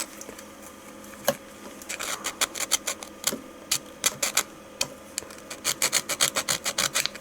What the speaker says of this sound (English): Needle file.